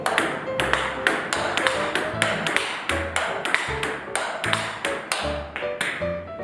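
Table tennis ball struck repeatedly with a paddle carrying DNA Platinum rubber, crisp close pings in a quick steady rally rhythm, with faint voices in the background.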